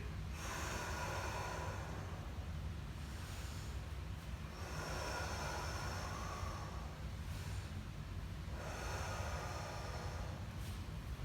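Heavy, rhythmic breaths taken during a rope stretching routine, with three or four long, airy exhales spaced a few seconds apart. They sound close to the mic over a steady low background rumble, and nobody speaks.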